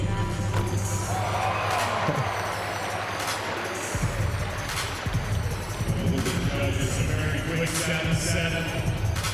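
A packed arena crowd roars through a Kentucky basketball dunk contest at Big Blue Madness, a dense sustained wash of cheering and shouting with bursts of whoops and a heavy low rumble, with voices calling out within it.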